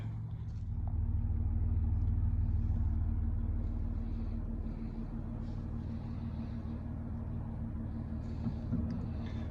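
A Foxbody Mustang with no steering shaft rolls slowly in a garage, giving a low steady rumble with faint tire and chassis noise, close and continuous.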